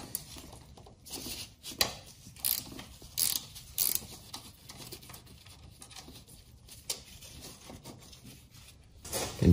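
A 10 mm bolt is loosened on a 2008 Honda CBR600RR, giving quiet ratcheting clicks from a wrench in short bursts with soft metallic handling noises between them.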